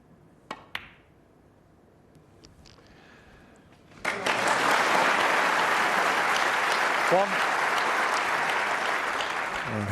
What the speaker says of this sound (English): He deserves a good round of applause.